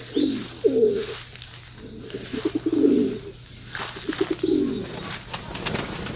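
Pigeons cooing inside a loft, with repeated low throaty coos and soft rhythmic calls close by, plus faint chirps in the background and no talking.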